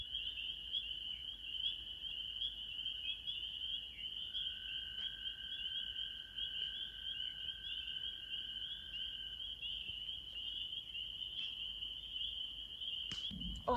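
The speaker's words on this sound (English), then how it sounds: "I don't know if you guys will be able to hear the peeper frogs, but they're so loud." Spring peeper frogs call at night in the Kawartha Highlands backcountry, a dense, continuous high chorus of peeps that is steady and fairly distant, with a faint longer trill joining partway through.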